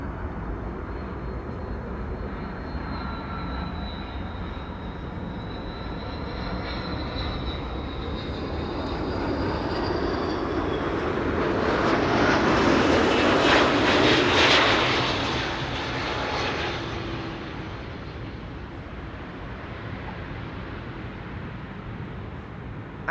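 An Irish-registered passenger-to-freight converted jet lands at Amsterdam Schiphol, its engine rumble and whine building steadily from a distance to a loud peak as it passes, then fading back to a moderate roar.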